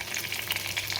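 Urad dal, a single dried red chili and curry leaves frying in hot oil for a charred plantain curry, giving a brief, steady crackling sizzle close by with no voices.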